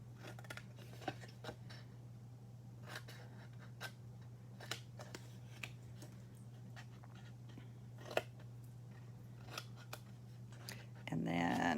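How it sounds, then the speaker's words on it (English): Scissors cut paper along a score line, making a series of sharp, brief snips spaced irregularly over a low steady hum, with quiet talking now and then. "when I'm cutting that tab off, I'm also cutting on the score line right up there"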